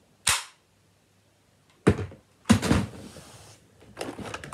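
A Nerf toy gun fires in sharp, loud pops, one single shot followed by a pair of cracks and then a rattling burst, close by with silence between shots.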